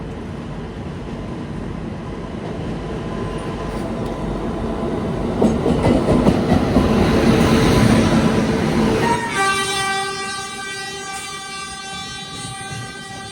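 The Vivek Express, running Dibrugarh to Kanniyakumari, pulls into Ernakulam Town railway station with a loud, steady rumble and wheel clatter that swell, then give way to sustained high tonal squealing as it slows.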